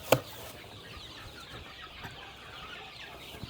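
Chickens and young chicks on a homestead cluck softly in a steady low chatter, with one sharp louder call right at the start and quieter peeps scattered throughout.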